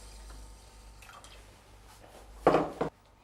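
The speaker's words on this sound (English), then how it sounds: "there are 3 cups of rice, and so you're adding 3 cups of water" Water poured into three cups of rice in a steamer pot, a short splashing burst of about half a second that stands out clearly against a quiet kitchen background, with faint clinks before it.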